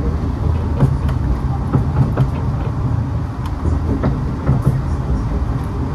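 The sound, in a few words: KA Bogowonto stainless steel economy train crossing a bridge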